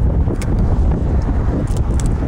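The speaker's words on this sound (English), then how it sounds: "Man, it's windy outside." Strong wind roars and buffets the microphone outdoors by a river while filleting walleye, a dense low rumble that stays loud and continuous with brief gusty flutters.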